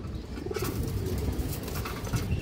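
A high-quality fancy pigeon cooing close by, low soft throaty coos repeating over a steady background of other birds and ambient noise.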